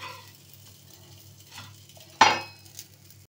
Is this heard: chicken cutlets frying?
yes